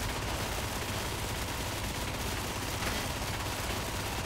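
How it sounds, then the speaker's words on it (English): Mark 6D recon lasgun, a hyper-fast-firing variant, shooting in Warhammer 40,000: Darktide, a dense continuous stream of rapid shots that blur into one sustained burst lasting the whole stretch, loud and close. "Now we'll take the Vlad, all right, the Mark 6D. This is the hyper fast firing variant."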